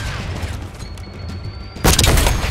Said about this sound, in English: Send in flashbang.